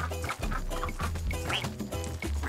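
Duck quacking in the Rayman Legends video game, several short nasal quacks over busy game music and effects, close and fairly loud.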